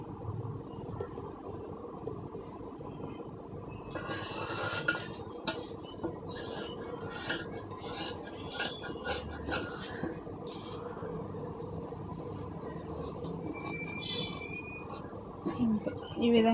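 Scissors cutting blouse fabric by hand, a run of crisp, repeated snips that begins a few seconds in and continues intermittently over a low background, with a faint voice present.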